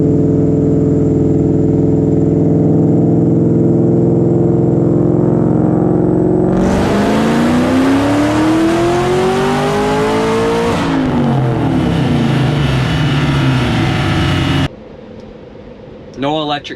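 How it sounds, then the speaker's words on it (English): A Shelby Cobra V8 idles with a deep, steady rumble, then revs hard in a long rising and falling sweep, holds high for a few seconds, and cuts off abruptly, leaving a quiet pause with a brief rustle at the end. "I love how my Cobra sounds."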